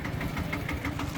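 A tractor engine runs steadily at close range, a continuous low rumble with a faint rhythmic knock, loading goods for a move into a new house in rural Thailand.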